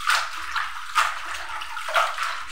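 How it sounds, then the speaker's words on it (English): Leafy vegetables being rinsed by hand in a basin of water, with rhythmic splashing and sloshing that swells roughly every second, close and fairly loud, no talking. "So I'm washing them. This is how I normally wash."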